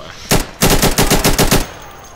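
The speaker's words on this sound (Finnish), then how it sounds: "Tuolta sieltä ampuu joku mua." Loud, close bursts of automatic gunfire from the shooter game Insurgency: one shot, then a rapid string of about eight rounds in an even rhythm before stopping.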